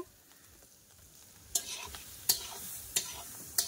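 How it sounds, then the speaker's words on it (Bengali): A spoon scrapes and stirs food in a pan over a village clay stove, with several sharp clattering strokes in the second half over a faint, steady sizzle; no talk. "পুরো পুরো পুরো একদম উনুনে আমরা ঘেটে দিচ্ছি"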